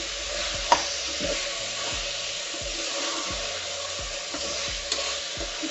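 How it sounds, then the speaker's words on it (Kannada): Mutton fries in a pan with chilli powder, salt and turmeric, giving a steady close sizzle broken by regular scraping stir strokes about once a second, with no talking. "ಖಾರದ ಪುಡಿ, ಉಪ್ಪು, ಅರಿಶಿನ ಪುಡಿ ಹಾಕೊಂಡು ಮಟನ್ಗೆ ಉಪ್ಪು ಖಾರ ಚೆನ್ನಾಗಿ ಹಿಡಿಯೋ ರೀತಿಯಲ್ಲಿ 2 ನಿಮಿಷ ಫ್ರೈ ಮಾಡ್ಕೊಂಡು"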